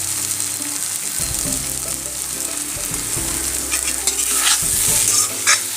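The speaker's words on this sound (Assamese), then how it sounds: "আলু আৰু এই শাকখিনি ভালদৰে ভাজ খাই গৈছে।" Potatoes and leafy greens stirred and fried in a pan, with a steady loud sizzle under repeated scraping strokes of a spatula through the whole stretch.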